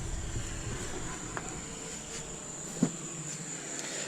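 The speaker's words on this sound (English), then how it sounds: "You can see all the very unhappy wasps." Wasps buzz under an old church, a continuous close insect drone with a thin high whine on top and a couple of brief knocks, no talking.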